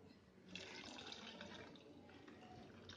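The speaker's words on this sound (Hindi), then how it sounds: "इसमें से ये जो एक्स्ट्रा पानी है ये निकाल देंगे।" Extra water streams and drips out of chhena squeezed in a cloth while making Bengali rasgulla, a steady close trickle and splash of liquid falling into a vessel.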